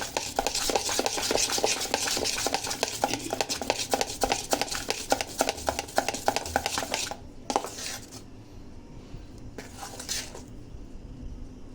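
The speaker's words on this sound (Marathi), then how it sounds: "हे असं सगळं मिक्स करून घेतल्यानंतर 8 ते 10 मिनिटं असं फिरवत राहायचं" Chili pakoda batter being stirred in a bowl, a steady run of quick scraping and clinking strokes for several seconds, then a pause broken by two short scrapes, fairly faint and close.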